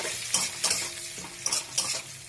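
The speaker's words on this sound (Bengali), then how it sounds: "তেলটা আমার গরম হয়ে গেছে, আমি এই ফোড়নগুলো দেবো।" Dry chilli, cumin, whole garam masala and bay leaf fry in hot oil, a close sizzle broken by several rhythmic spoon stirs against the pan.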